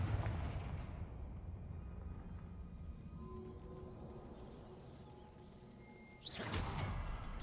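A Confringo blasting spell goes off in Hogwarts Legacy, a steady low rumbling roar of fire and crackle that swells into a sharper whooshing burst near the end, with no talk.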